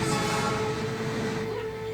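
A train rumbles past with a dense, steady roar and a sustained horn-like tone, heard from a Doctor Who episode, Flatline, with no one talking.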